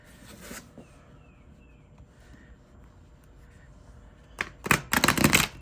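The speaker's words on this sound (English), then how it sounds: "So I can shuffle it like that" Chunky W.I.T.C.H oracle cards with gilded edges are shuffled overhand, a quiet stretch giving way to a loud run of rapid, papery riffling slaps near the end.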